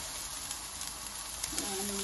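Onion frying in a pan for a king fish biryani, giving a steady, moderately faint broadband sizzle throughout, with a brief tonal sound near the end.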